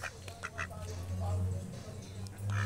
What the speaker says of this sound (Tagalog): kumakagat yung itik